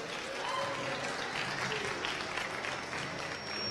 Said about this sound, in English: Can I get a little clapping for voting?